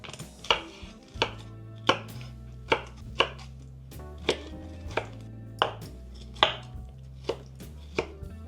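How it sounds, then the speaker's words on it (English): A knife chopping defrosted cauliflower into florets on a board, about a dozen sharp, evenly spaced cuts, close and clear, with no talk. "now I'm gonna cut it in little flower buds"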